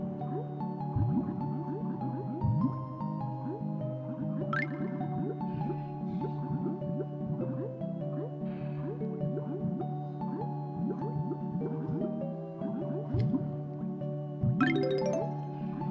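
Underwater level in Banjo-Kazooie with squishy, bubbly gurgles and drips over a steady tuneful music bed, soft and repetitive throughout with occasional brighter splash-like accents.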